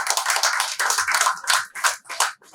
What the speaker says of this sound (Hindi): थोड़ा तालियां वाली अच्छे से बजाएंगे।